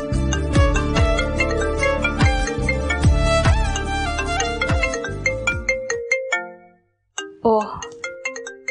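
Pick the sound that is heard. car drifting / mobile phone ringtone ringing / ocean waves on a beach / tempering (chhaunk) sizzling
mobile phone ringtone ringing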